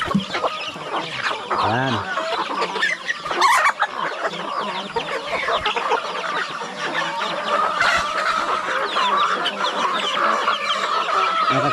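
A flock of hens clucks steadily in a farm yard, with a short rooster-like call early on and someone talking over the birds.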